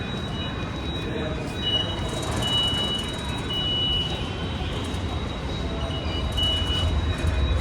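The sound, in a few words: metro train in a Mumbai station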